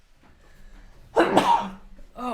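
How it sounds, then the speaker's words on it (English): A single sharp sneeze bursts out close by in a quiet room, a short explosive blast with a tailing breath, followed by a voice starting to speak. "oh man, gotta sneeze."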